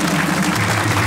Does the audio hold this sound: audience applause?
yes